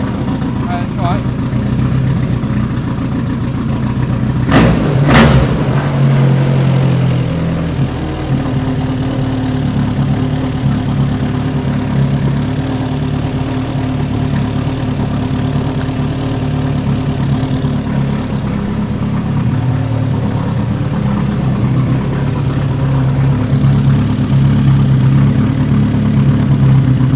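A car engine idles steadily after an engine change, a continuous close low rumble with a brief sharper burst early on, running alone without talk.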